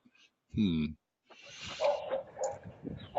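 Dogs barking behind a door, one deep woof followed by a burst of muffled, overlapping yips and barks, moderately close, with people talking nearby.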